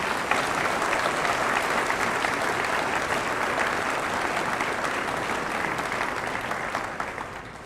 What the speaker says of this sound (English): let's give our staff K through 12 a round of applause